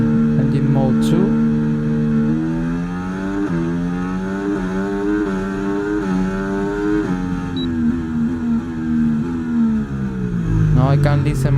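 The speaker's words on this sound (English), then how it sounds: "Now I can listen much louder the engine sound of my car in the game." Williams FW46 Formula 1 car engine in an F1 video game at Bahrain testing, a loud continuous whine rising and falling through gear shifts, with someone talking over it.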